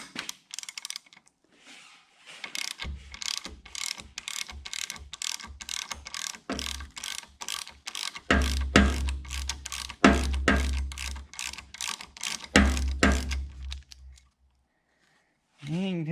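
A ratchet wrench clicks in rapid bursts, loosening crusty old thermostat elbow bolts on a 66 engine head; runs of fast close pawl clicks with short pauses, heavier strokes midway, ending in quiet.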